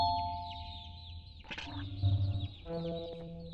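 Chickens cluck in the horror video game Garten of BanBan 2, a mix of short, fairly faint calls with a busier burst of clucking midway and steady game sounds underneath.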